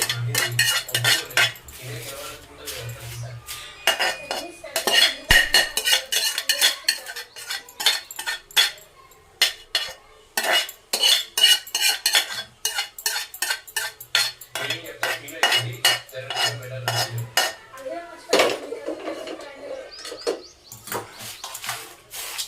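A spoon stirs curry leaves in a metal pan, producing rapid clinking and scraping strokes in irregular bursts with brief pauses, close and crisp, over a faint low hum at times.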